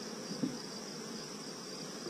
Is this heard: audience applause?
no